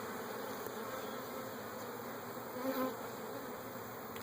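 A crowd of bees at a beehive fills the air with a steady, close drone, one louder buzz swelling briefly as an insect passes near.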